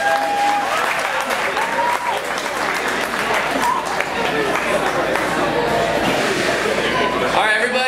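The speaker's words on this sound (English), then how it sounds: "Give him a round of applause." Loud, sustained audience clapping at a student music lesson recital, with chatter and voices running beneath the dense applause for its whole length.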